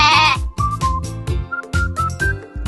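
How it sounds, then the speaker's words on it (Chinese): A goat bleats in a farm-animal setting, one loud wavering cry at the start followed by shorter tonal calls over a steady, busy musical backing. "山羊，山羊"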